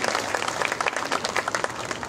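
An audience at a Buddhist Dhamma conference at the Ajanta caves breaks into steady, dense applause, many hands clapping together from close by.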